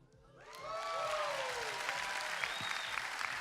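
An audience breaks into applause for a couple married over sixty years. The clapping swells in after a quiet start, with a few whoops or whistles on top, then holds full and steady.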